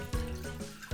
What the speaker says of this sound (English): In here, I'm going to put in 2 cups of water.